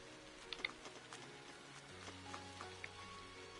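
Rain falling in the video game Trails of Cold Steel, a faint, steady patter with soft ticking drops over a low ambient music bed, no voices.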